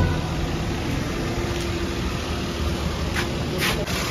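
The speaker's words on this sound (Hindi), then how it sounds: "साउंड आप लोग सुन सकते हैं इंजन का" A Maruti Alto K10 with its 998 cc K-series petrol engine idles at steady volume under the open bonnet, giving a continuous low rumble with a few faint clicks near the end.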